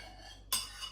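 A utensil clatters sharply against a bowl halfway through while meatball ingredients are mixed, one close metallic scrape-and-clink after a quiet stretch, with a faint second knock near the end.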